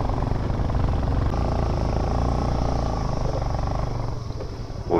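A motorcycle carrying passengers labours along a slippery hill road, its engine droning loud and strained with a steady low harmonic hum that wavers slightly before easing near the end.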